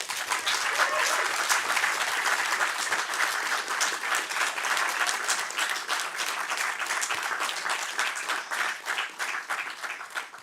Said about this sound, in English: if you can please stand so we can give you a round of applause